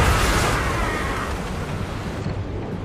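A heavy mortar blast booms during a naval battle in the video game Assassin's Creed Rogue, one loud close explosion with a long rumbling roar that slowly fades over a few seconds.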